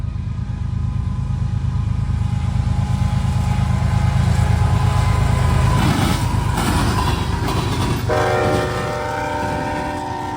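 CSX freight train passing in Garrett, Indiana, its diesel locomotive rumbling loudly and steadily close by before a long, blaring horn blast sounds near the end.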